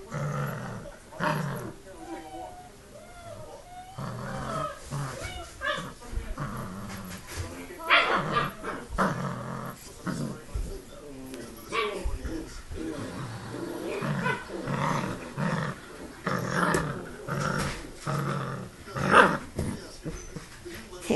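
A dog growls and snarls in rough, rumbling bursts, close and fairly loud, mixed with a person talking over it.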